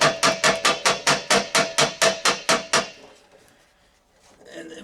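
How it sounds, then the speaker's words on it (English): A ball-peen hammer strikes metal in about a dozen quick, evenly spaced blows close up, each a sharp ringing clank, then stops and leaves a quieter stretch. "Could use a ballpoint hammer here."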